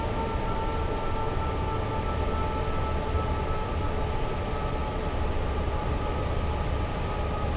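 A BR Class 86 locomotive in Train Sim World 6 rumbles steadily while braking, with a sustained tonal whine over a dense, even rolling noise.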